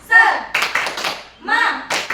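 A group of people in a classroom session performs the rhythmic tepuk semangat clapping chant, with short bursts of claps and thumps alternating with voices chanting in unison, loud and close.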